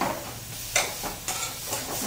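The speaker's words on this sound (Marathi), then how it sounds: "गॅस मोठा करून चांगलं भाजून घ्यायचा मसाला." Masala for a spicy mutton curry fries in oil over a high gas flame, with a constant close sizzle and a few scraping strokes of a spoon stirring it in the pan.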